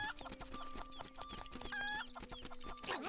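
A rooster in the Link's Awakening video game clucks in a rapid, choppy series of short calls over a plinking game melody, close and fairly quiet, with no speech.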